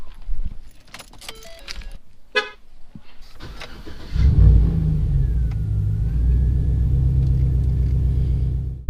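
Keys jangle and a few clicks come first, then a truck engine starts and settles into a loud, steady rumble close by during a Category 4 hurricane.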